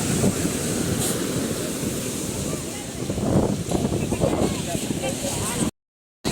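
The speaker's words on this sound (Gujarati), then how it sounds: "આટલો તેજ સમુંદરની લેર છે. એકદમ દરિયાની લેર." Continuous crashing surf on a shore with wind gusting into the microphone, the wash swelling and receding, then a brief drop to silence.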